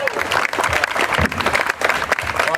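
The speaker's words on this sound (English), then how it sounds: "Another big round of applause, Eric Pry, Mayor's Award of Excellence." A crowd at an award ceremony in G.A.R. Memorial Hall claps steadily, dense and loud, with a few voices mixed into the applause.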